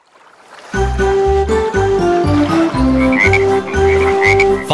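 Cartoonish frog croaks for a nursery rhyme song sound in a loud, rhythmic series of low ribbits over a bouncy musical backing, with a faint tinkle and trickle behind.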